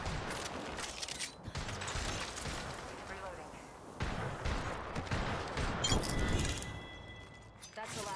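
Gunfire from Apex Legends striking the player amid a dense burst of in-game combat noise, sustained and loud with repeated crackling shots and clinks, a voice talking over it.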